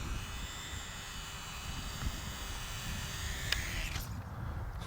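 Electric motor of an RC model SE5A biplane droning steadily in flight, a continuous even whine held at a fairly constant distance before cutting out near the end.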